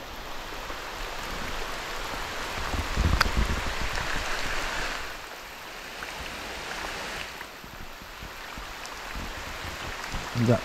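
Heavy rain pours steadily over a flooded oil palm plantation, with dense patter that swells louder and then eases slightly before building again, and no voices.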